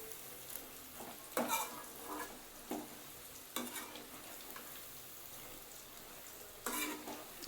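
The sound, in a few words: prawns frying in a pan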